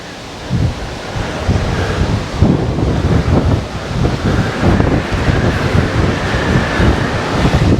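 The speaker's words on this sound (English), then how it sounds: "It is windy up here." Strong wind gusting across a high lookout in Kathio State Park, Minnesota, a loud continuous rushing roar buffeting close on the microphone with no talk.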